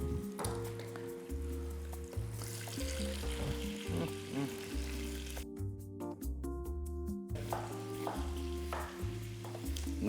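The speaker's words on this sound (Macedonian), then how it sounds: "ќе го исецкам зеленчукот и ќе го додадам во истата маснотија, добро да се испржи" Coarsely chopped vegetables frying in fat in a pan, a continuous crackling sizzle with repeated stirring scrapes and clinks, close and fairly loud, with a brief near-silent gap midway.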